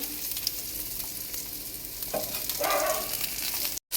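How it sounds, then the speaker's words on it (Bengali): Fish frying in a pan on a home kitchen stove, a steady close sizzle with occasional louder crackling bursts and faint stirring, and no talk over it. "দেখো এখন মাছ ভাজা হচ্ছে"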